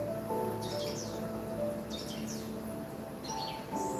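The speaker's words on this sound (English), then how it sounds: "You like the birds, Taco?" Bird song from a nature film on a projection screen comes as short, bright chirping bursts repeated several times over a steady low background hum in a room.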